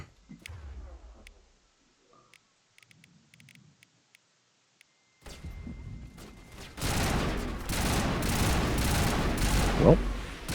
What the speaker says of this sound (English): Is that a 3-round burst gun?